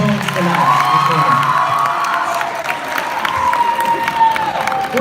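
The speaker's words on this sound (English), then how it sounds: "let's give a big round of applause for all of our poets tonight." A poetry slam audience claps, cheers and whoops for the evening's poets, a loud, lively mix of applause and shouting voices that carries on for about five seconds.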